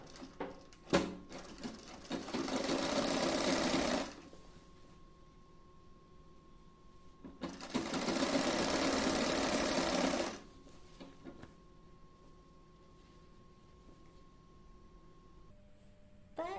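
Sewing machine top stitching a puff sleeve: two bursts of rapid, even stitching of about three seconds each, separated by a quiet pause, close and fairly soft.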